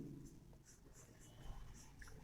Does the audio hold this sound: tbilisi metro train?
no